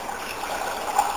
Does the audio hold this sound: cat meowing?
no